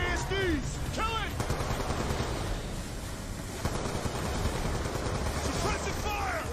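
Video game battle gunfire, a continuous rattle of shots forming a steady backdrop, with shouted voices over it.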